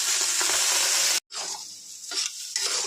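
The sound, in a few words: Gobindobhog rice frying in olive oil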